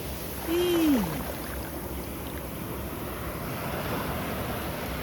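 Sea waves wash in on the shore at Tondavali beach on the Konkan coast during net fishing, a steady broad roar of surf and wind with a brief whistling tone near the start.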